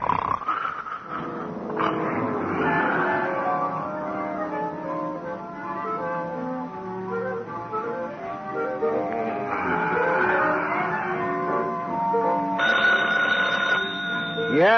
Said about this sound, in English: Oh, phone, Gino.